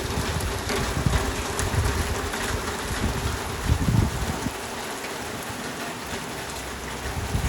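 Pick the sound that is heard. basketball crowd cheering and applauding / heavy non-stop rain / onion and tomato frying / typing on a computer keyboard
heavy non-stop rain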